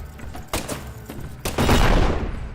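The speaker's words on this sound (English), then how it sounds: "A combination explosion." Explosions in a video game: several sharp booming blasts in quick succession, the loudest rumbling burst near the end, close and loud with no talk over them.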